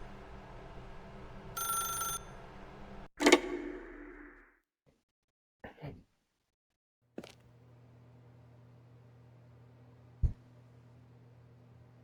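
Telephone ringing in a video game: a few sharp, bright electronic rings spaced apart, with a hum and quiet room tone between, no talking.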